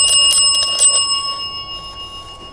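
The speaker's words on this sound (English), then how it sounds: "If you touch it, it will just make a normal bell sound." A small electronic device gives off a bright bell-like ring, a few quick repeated chimes at the start that then trail off into a lingering tone, heard up close in a quiet outdoor campsite setting.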